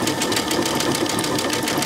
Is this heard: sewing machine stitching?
yes